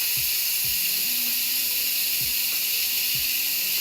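Steam hissing loudly and continuously from a pot of lamb ragu on the stove, a bright close hiss with a few soft low knocks underneath.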